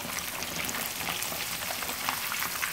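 Rohu fish pieces fry in hot oil in a pan for a spicy Lahori fish fry, a steady crackling sizzle with dense popping spatter and no voices.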